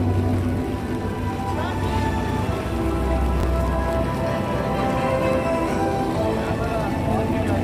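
Steady rain falling on surfaces at Epcot in the evening, a continuous hiss and patter with a low background rumble and faint crowd noise.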